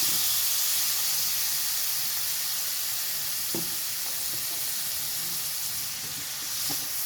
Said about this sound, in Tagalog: Mix natin. I-mix, mix. Kasi malambot na yan ang aking beef